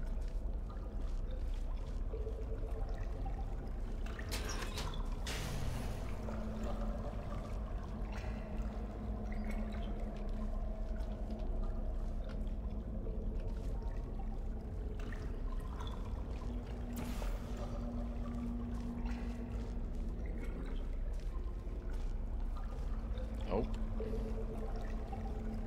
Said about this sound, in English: Water is very loud.